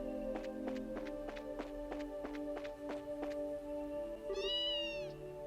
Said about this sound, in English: I love how it's just captioned cat voice.